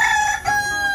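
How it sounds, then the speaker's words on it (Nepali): A rooster crowing at a rural village home, one sustained, loud, close harmonic crow with a brief break in the middle, heard alone without talk. "लो भालेले नि कन्टेन्ट दिइहाल्यो, म पनि छु भन्दैछ उसलाई खिचेन भनेर।"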